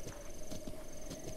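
Horse hooves clip-clop in The Legend of Zelda: Breath of the Wild as a steady trotting rhythm of light, moderately close hoofbeats over a constant hum of game ambience.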